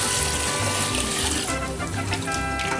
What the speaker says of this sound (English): Get ready for our sauce on top of our meat.